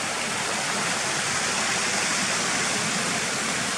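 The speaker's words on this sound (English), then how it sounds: "So you can see the white water rapids going over the rocks." White water rapids of the Kershope Burn rush over rocks in a steady, dense, close roar of flowing water with no voices.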